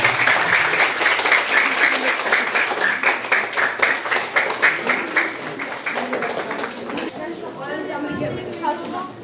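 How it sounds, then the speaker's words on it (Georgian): A crowd at a primary school class graduation gives a warm round of applause, a lively burst of many hands clapping that gradually thins out, with a voice talking as it fades. "ხურვალი აპლოდისმენტები მეგობრებო."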